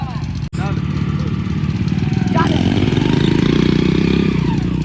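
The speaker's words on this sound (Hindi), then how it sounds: "वेरी गुड चल रही मोटरसाइकिल भाई" A modified Hero Splendor motorcycle engine runs close by with a steady, throbbing mid-pitched idle that rises a little as it revs, while someone talks over it.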